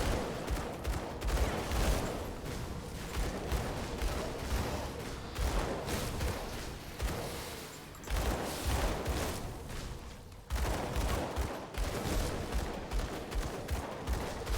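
Rapid, sustained pistol gunfire from a ranged build in the action RPG Grim Dawn, dense bursts of shots with brief pauses around eight and ten seconds, loud and continuous without talk.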